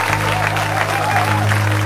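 An audience at a Christian gathering claps briefly in a dense, continuous burst of applause over a low steady hum.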